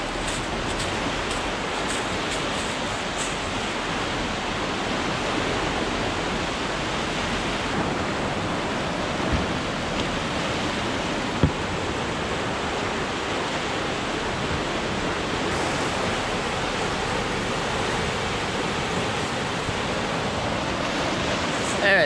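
Artificial waves surging through a concrete channel make a continuous rushing, churning water noise that holds steady throughout, with a couple of faint knocks and no clear talk over it.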